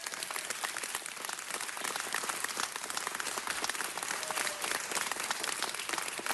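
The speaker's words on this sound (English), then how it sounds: "Let's give them a round of applause." An audience applauds at a city council meeting, a thick, continuous patter of many hands clapping at a fairly distant, moderate level that stays steady for several seconds with no voices on top.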